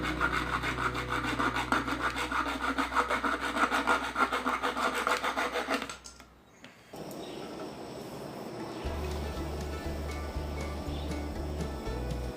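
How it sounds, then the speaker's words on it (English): Excess oak wood being sawn off for a fiddle build makes a loud, rhythmic rasping hand-saw stroke near the mic for about six seconds, then a brief pause before quieter scraping and a low pulsing hum follow. "Now we just need to cut off the excess."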